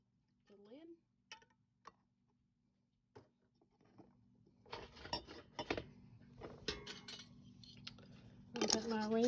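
Metal screw band being twisted onto a glass canning jar of pickled beets, giving sparse light metallic clicks and scrapes, with a voice talking partway through.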